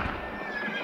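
In a video game, a horse gives a short, close neigh, its whinny rising and wavering over some hoof clatter.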